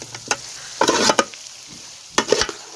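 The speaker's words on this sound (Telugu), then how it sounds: "ఇట్లా వేసిన తర్వాత కొత్తిమీర వేసి కలుపుకుందామండి." Potato curry with fresh coriander is stirred in a hot pan, giving scraping, clattering bursts of the spoon against the pan over a soft sizzle, close by, with no voices.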